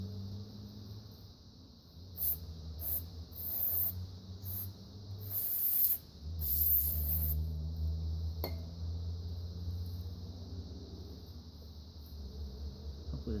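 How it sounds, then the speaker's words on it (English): Spray cleaner blasted into the carburetor of an Echo SRM 225 string trimmer, several short hissing bursts, some clustered together, close and fairly loud over a quiet steady background hum. "I should spray this thing out"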